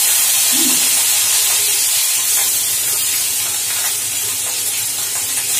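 Onion paste hitting hot oil in a pan sizzles with a loud, steady hiss that continues throughout, with only a brief dip near the start.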